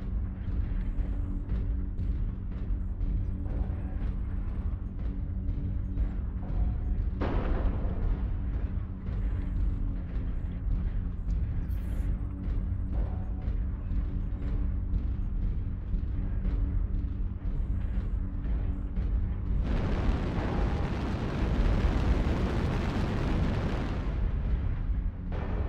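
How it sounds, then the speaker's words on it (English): Artillery strike explosions in MechWarrior Online: a dense, continuous rumble of booms and bursts, with a sharper blast near the start and a louder, brighter barrage of impacts toward the end. "Artillery strike online."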